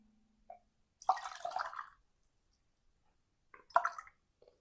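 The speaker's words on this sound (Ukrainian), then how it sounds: "Відмірюю до чашки, вливаю трішки води." Two short bursts of warm boiled water pouring into a cup, separated by a pause, close and fairly quiet with small drips around them.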